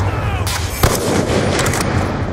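A grenade blows up in the Black Ops 2 team deathmatch, a single sharp burst cutting through continuous gunfire and game noise, fairly loud and close.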